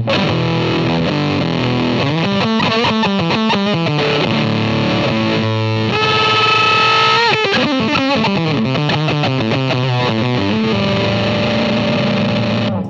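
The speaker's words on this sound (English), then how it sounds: "this is the fuzz pedal, and you can hear how the pickups kind of handle" A heavily distorted Reverend Bob Balch signature electric guitar through a fuzz pedal, with thick fuzz tone, plays chugging riffs and sustained chords, loud and continuous with no voices.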